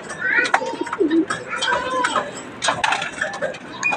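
Pigeons coo softly in low, throaty bursts amid scattered chirps and clicks, with a person talking intermittently nearby.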